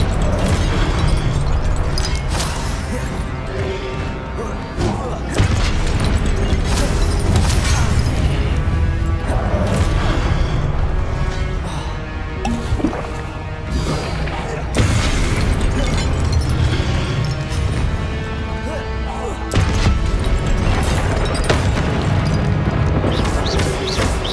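Repeated Confringo and Incendio spell blasts in the Hogwarts Legacy video game, a rapid string of loud explosive bursts, crashes and fiery booms hitting every second or so in a dense, unbroken barrage.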